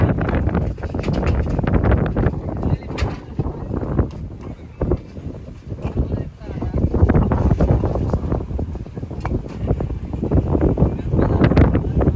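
Strong, gusty wind during a dust storm with rain and thunder roars and buffets against the microphone, a steady loud rush with surging gusts throughout.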